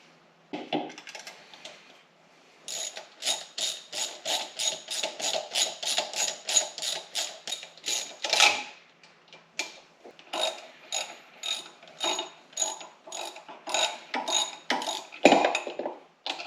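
A hand ratchet clicks steadily while tightening bolts during an EJ25 engine reinstall in a Subaru Forester, with close rapid pawl clicks in quick bursts that pause briefly and resume, no talking.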